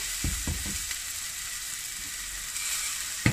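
Garlic frying in a pan, a close, continuous crackling sizzle with a few soft stirring knocks near the start and a small clatter at the end, and no talking.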